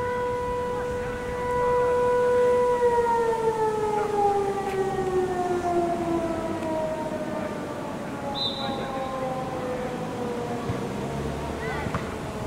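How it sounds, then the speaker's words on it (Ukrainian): An air raid all-clear civil defense siren wails steadily, a loud sustained tone with harmonics that slowly slides lower in pitch over a constant outdoor background. "Це відбій повітряної тривоги."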